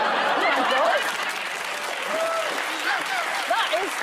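A studio audience breaks into brief applause, moderately loud and close, with a voice speaking over it and a chuckle or two mixed in.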